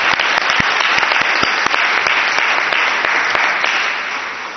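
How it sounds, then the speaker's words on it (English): A large audience claps enthusiastically after a choral performance at a city hall ceremony, a dense, loud ovation that holds steady and then tapers slightly at the end. "give another big round of applause"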